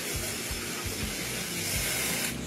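DeSalt cleaner is sprayed onto an outboard motor, giving a continuous broad hiss with a faint pulsing throb underneath throughout.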